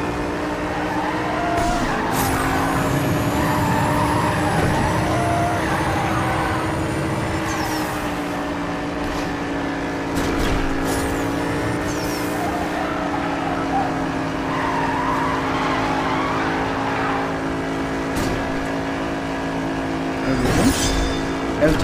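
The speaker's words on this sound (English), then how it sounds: "You see I'm drifting as I can already." A Jaguar F-Type drifts in Need For Speed No Limits. A loud engine drone holds steady while tires squeal and skid in long sustained streaks, broken by a few sharp bursts. A voice talks faintly underneath.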